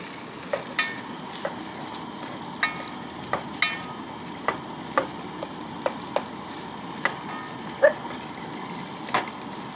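Frozen chicken thighs cooking in a pan at a campground, giving a steady low sizzle dotted with frequent soft pops and crackles, heard close and without talk.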